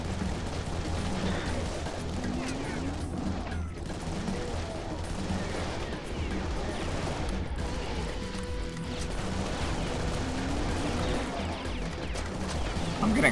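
Dense, continuous gunfire and rocket fire from the Serious Sam 3: BFE video game, a loud unbroken clatter of shots and blasts with no clear pauses across the whole stretch.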